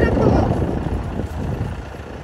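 A tractor drives past pumpkin fields during a Halloween pumpkin-picking outing, its engine rumbling low and loud close by. The engine fades slightly over the few seconds, and voices can be heard faintly over it.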